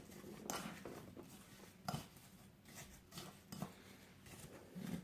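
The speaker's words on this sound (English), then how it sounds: "I'm going to mix it up with a wooden spoon." Sugar being stirred by a wooden spoon in a bowl for an apple cinnamon cake, soft irregular scraping and knocking strokes, quiet and close.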